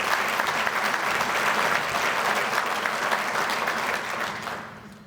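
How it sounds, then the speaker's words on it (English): Applause from the audience at a company's annual meeting, dense and loud clapping from many hands that holds steady and then fades out near the end. "Let's give them a round of applause."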